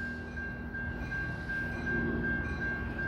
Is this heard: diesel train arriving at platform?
yes